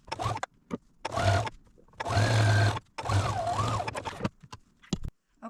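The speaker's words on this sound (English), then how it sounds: "I want to take this over to the sewing machine and sew a 3/8 inch seam across here" A home sewing machine stitches a 3/8 inch seam in shirt fabric, its motor whining in several bursts of a second or so each, with short pauses and faint clicks between runs.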